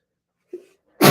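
A person sneezes once up close, a short stifled intake and catch followed by a loud, breathy burst.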